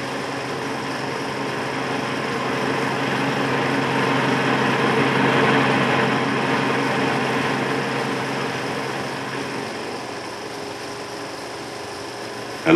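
Steady engine drone of a coal board dumper truck running on a colliery test course at Arkwright Colliery, a continuous mid-loud hum that swells slightly and eases off, heard from a distance with no voices.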